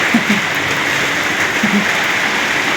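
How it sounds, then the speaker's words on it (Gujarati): Steady rain falling outside, a broad continuous hiss at a constant loud level for the whole stretch, with a couple of faint low thuds in the background and no talking. "બહાર વરસાદ ચાલુ છે"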